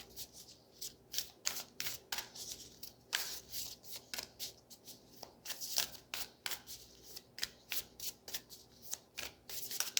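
Repeated riffling of a deck of cards, quick papery bursts in a steady rhythm, close and fairly clear, with no talking.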